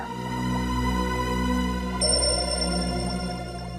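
A telephone rings in a tense detective drama scene, its electronic ringtone repeating steadily throughout and briefly joined by a brighter, higher tone partway through.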